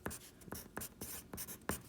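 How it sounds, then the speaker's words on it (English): Marker or chalk writing SOHCAHTOA on a classroom board: seven or eight quick, scratchy strokes in an uneven rhythm, close and fairly quiet, with no voice over them. "let me write SOHCAHTOA up here."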